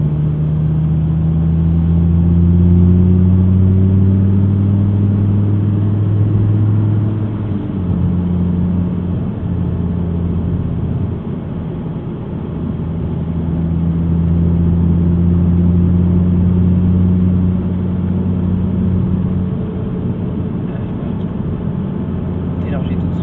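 An Audi R8 V10 pulls hard around the Issoire circuit, its engine droning loud and steady from inside the car with rising and shifting tones, while people talk over it.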